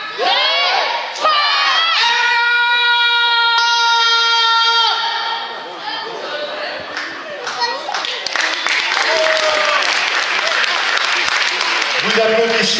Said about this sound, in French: Vous applaudissez n'importe quoi.